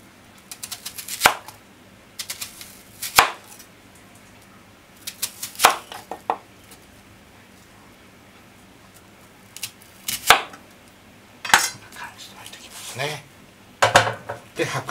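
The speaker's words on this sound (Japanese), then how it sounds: "おネギ、玉ねぎは横に輪切りにします。" A knife chops green onion and onion into rings on a board, sharp close cuts coming in short bursts separated by pauses, with occasional clatter of kitchenware.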